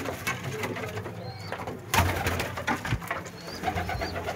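Pigeons coo in a coop after cleaning and rearranging, soft repeated throaty calls close by with a few brief wingbeats and bumps, no talking.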